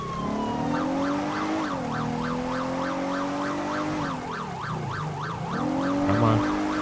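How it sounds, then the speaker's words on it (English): Wailing police siren from a patrol car in the video game GTA 5, sweeping up and down in steady rapid cycles, loud and continuous over a low engine rumble, with a brief dip before it resumes. "now it's time to just turn off the siren completely"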